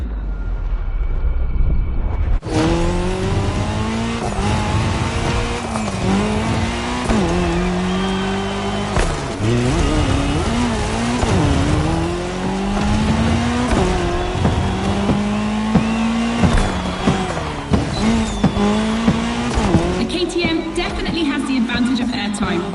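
Cars race on a course in the video game The Crew Motorfest: a loud engine revs up and drops again and again through gear shifts, with bursts of tire squeal, under a talking voice.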